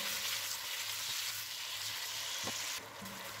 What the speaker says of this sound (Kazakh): Енді қызып тұрған майымызға етімізді салып жақсылап қуырып аламыз.